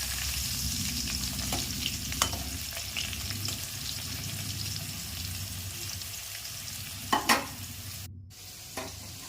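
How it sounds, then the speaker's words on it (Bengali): Potatoes fry in hot oil with a continuous close sizzle while being turned and stirred, with occasional sharper scrapes and clicks of the utensil against the pan; no one talks. "আলুগুলো এপিট ওপিট করে ভালো করে আমি নেড়ে চেড়ে নিচ্ছি।"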